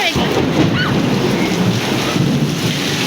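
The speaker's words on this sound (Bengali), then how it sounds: "আল্লাহ দেখতে পাচ্ছেন কত জোরে মেঘ চমকাচ্ছে" A thunderstorm outdoors, with heavy rain and strong wind roaring loudly into the microphone and a deep rumble of thunder beneath, dense and unbroken throughout.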